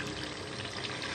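Kewra essence poured into a pot of beef korma, a steady soft liquid trickle with a broad hiss, close and continuous throughout with no talk.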